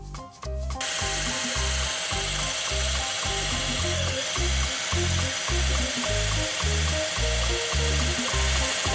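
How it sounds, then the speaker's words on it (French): A continuous motorized whirring with a regular rhythmic pulse as an electric whisk beats a warm génoise sponge cake mixture in a bowl, close and fairly loud. "on va fouetter pour blanchir ce mélange. Alors là, avec un fouet électrique"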